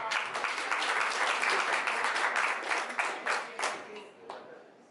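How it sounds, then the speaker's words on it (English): Audience applause at a shopping mall launch event in Las Vegas, a dense burst of many hands clapping close by that thins into scattered claps near the end. "let's give him another round of applause"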